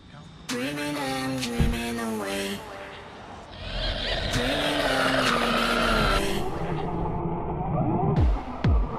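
A Wltoys 184008 brushless 1/18 scale RC car on 2S power drives fast nearby, its high electric motor whine rising and falling through repeated accelerations, with tire scrubbing noise and a few knocks.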